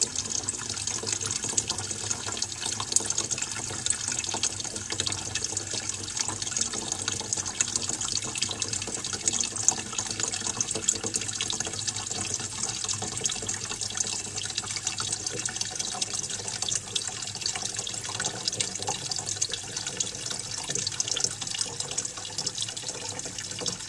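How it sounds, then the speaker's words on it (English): Water rushes steadily through a Fluidmaster fill valve and its refill tube as a 1957 Standard Cadet toilet tank fills at about 20 pounds of water pressure, a constant hissing flow with no pauses and no talking. "the fluid master seems to have more of a flow through the refill tube than the quirky quiet fill does"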